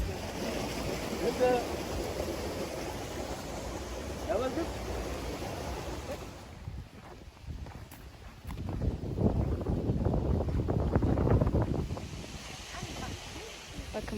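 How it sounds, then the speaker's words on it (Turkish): A famous village waterfall running with low flow, giving a steady broadband rush of falling water that dips briefly midway and then swells again, with a faint murmur in the background. "Burası bizim meşhur şelalemiz."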